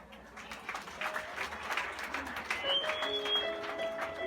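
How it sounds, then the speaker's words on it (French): A church congregation claps warmly, a moderate spread of hands at a distance mixed with soft tonal cooing or whistling notes and a low murmur of crowd sound. "On applaudit chaudement."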